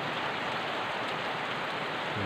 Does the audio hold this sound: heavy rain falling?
yes